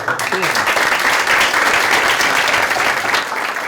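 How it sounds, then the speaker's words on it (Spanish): An audience breaks into loud, sustained applause, dense clapping filling the space for several seconds. "Está Guido Botofiora, para quien pido un gran aplauso, gran actor."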